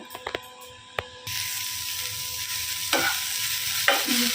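Onion, ginger, garlic and cabbage go into a hot frying pan over a high flame. A few sharp clinks come first, then a loud, steady sizzle bursts up and keeps hissing, with occasional stirring scrapes.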